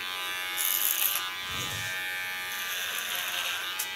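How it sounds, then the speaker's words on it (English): A hair clipper hums close and steady while trimming very short hair around the ears in a salon cut, the buzz swelling briefly as the blades bite into hair lifted on a comb. "Let my clipper do the work."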